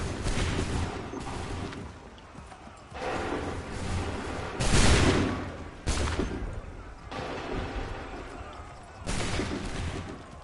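Musket volleys in Assassin's Creed 3 boom out in several separate bursts, each followed by a rolling decay, with shouted battle commands between the firing.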